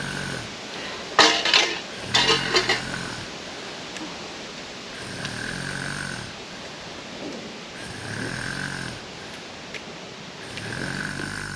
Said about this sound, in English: I have never heard snoring like that before